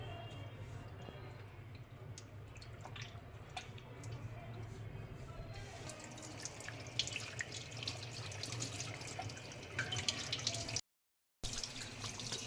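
Tap water runs steadily over goat tripe (boti) being washed in a sink, a soft trickling splash with occasional drips and light handling noises, with faint speech mixed in and a brief cut near the end.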